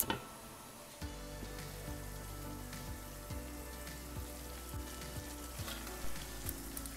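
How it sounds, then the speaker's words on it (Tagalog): Chicken humba simmers in a covered pan, a soft steady sizzle and bubbling with a low hum underneath, faint and even, with a brief clatter at the start. "tatakpan lang natin itong muli at muli natin itong isi-simmer"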